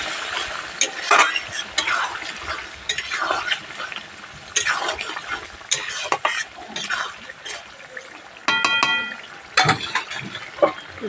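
Chicken curry is stirred in a pan with a metal spoon, giving repeated scraping strokes and clinks over a faint sizzle. There are brief pauses between bursts and a sharp clatter of cookware near the end.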